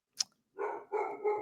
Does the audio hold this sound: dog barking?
yes